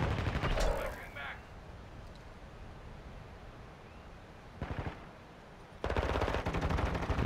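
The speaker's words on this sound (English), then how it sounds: "Oh, someone's firing from over there." Gunfire in the Call of Duty: Modern Warfare II video game, rapid automatic bursts at the start and again near the end over a steady rumble of battle ambience, with no talking.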